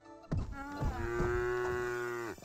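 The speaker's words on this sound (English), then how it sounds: "Hey, these cows sounding amazing, bro." A cow in the video game Craftopia gives one long, loud moo that starts with a few rough grunts and then holds a steady, droning tone before cutting off.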